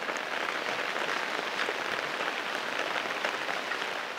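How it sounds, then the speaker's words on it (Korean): Heavy rain pours in a secluded mountain valley, a dense, steady hiss of drops that stays even from start to finish with no voices. "빗줄기가 굵어집니다."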